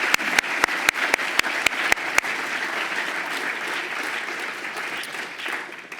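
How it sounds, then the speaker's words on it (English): An audience claps at a lecture event, with a few loud sharp claps close by at the start over a steady wash of applause that carries on to the end. "Let's give an anticipatory round of applause to Margaret Cabanis."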